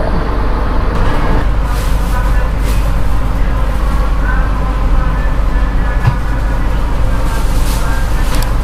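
A loud, steady rumble of the Argo Dwipangga train departing Yogyakarta Tugu station, with rolling mechanical noise and occasional clanks, while voices murmur faintly underneath.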